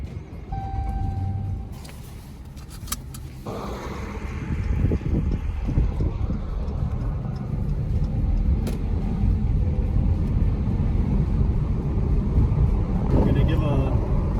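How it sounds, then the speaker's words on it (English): Dodge Challenger R/T on winter tires pulls away and drives, its engine a steady loud rumble with cabin road noise throughout, a few brief clicks near the start and a short chime-like tone early on. "let's take this car for a drive"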